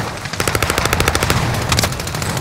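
Rapid automatic gunfire rattles in Call of Duty: Modern Warfare, a loud, continuous burst of evenly spaced shots lasting about two seconds.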